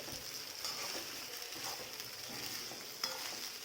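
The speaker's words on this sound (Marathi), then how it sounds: "एकसारखं असं हलवून घ्यायचं" Sabudana khichdi being stirred in a frying pan, a steady soft sizzle with scraping strokes throughout, fairly quiet and with no talk.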